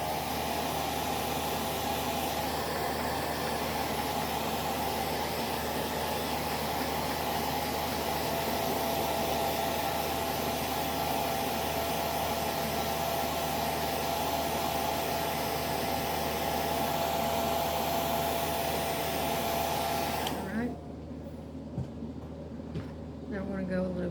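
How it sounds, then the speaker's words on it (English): A hair dryer runs steadily over wet acrylic paint on a rose painting, a loud continuous blowing whoosh that holds for about twenty seconds, then cuts off abruptly, leaving quiet room tone. "actually going to heat up my hair dryer again."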